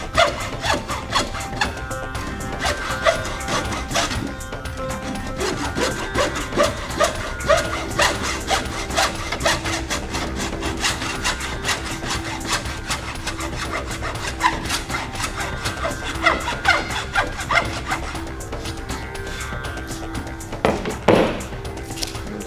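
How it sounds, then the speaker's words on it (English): A round file rasps against wood in repeated back-and-forth strokes, a close scraping rhythm that continues steadily throughout with brief pauses and no talk. "The round file works really well in this area."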